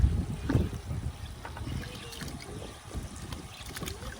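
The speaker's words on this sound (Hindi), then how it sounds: "हमारा पाइप लीक हो रहा है, देखो कितना पानी आ रहा है" Water leaking from a pipe outdoors, a soft uneven trickle and splashing with low rumbling, fairly faint and steady throughout.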